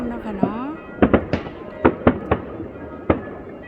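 New Year fireworks in a small Swiss town, a string of sharp bangs and crackling bursts at irregular intervals, fairly close, with someone talking between them.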